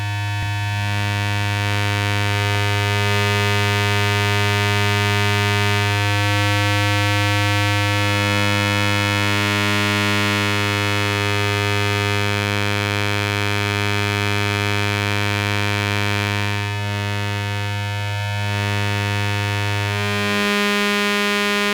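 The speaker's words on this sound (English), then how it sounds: "At audio rate, discrete map can function as a graphic VCO." Discrete Map synth module running at audio rate as a graphic VCO, a loud, sustained buzzy electronic tone with rich harmonics, its timbre shifting in steps as the waveform changes.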